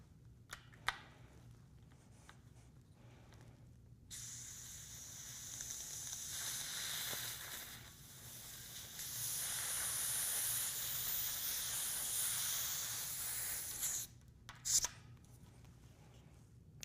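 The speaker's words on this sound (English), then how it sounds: "Now we're ready to inflate the tire using either your frame pump or your CO2 inflator." A flat bike tire is inflated with a frame pump or CO2 inflator, a close, steady rushing hiss of air that runs for several seconds, stops briefly, then continues before cutting off, with a few handling clicks around it.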